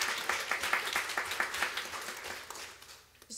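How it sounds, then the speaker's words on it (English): Applause from a church congregation during worship, a steady dense patter of many hands that fills the room and then thins out and fades near the end. "can we have a round of applause for God and for everyone involved?"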